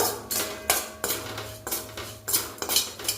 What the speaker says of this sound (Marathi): ती ॲड करते ती परतून घेते व्यवस्थित जिरी आणि लसूण तुम्ही एकत्र परतलं तरी चालेल